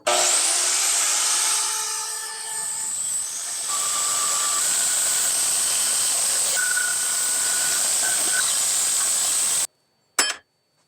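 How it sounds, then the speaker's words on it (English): A bandsaw cuts a Damascus steel knife blank in a workshop, giving a steady loud hiss and whine for about ten seconds before stopping abruptly, followed by a brief clatter. "Let's go cut that out on the bandsaw."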